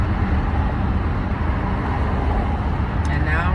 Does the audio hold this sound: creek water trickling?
no